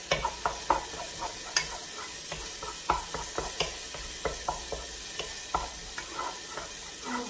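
A tablespoon of garlic sizzles in a soup pot for a low-carb cabbage taco soup: a soft constant fry close by, punctuated by regular sharp clicks and scrapes of a utensil against the pan.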